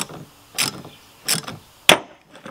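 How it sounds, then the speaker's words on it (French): A 14 mm wrench ratchets while tightening a fastener on the front shock absorber of a Renault Koleos, three short, close clicking mechanical bursts, the last one sharpest, with quiet between them. "Clé de 14. Donc là, je vais serrer."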